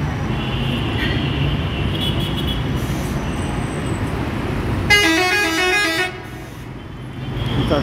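In busy Cairo road traffic beside a pedestrian bridge, a loud car horn blares for about a second over the constant rumble of passing cars and buses.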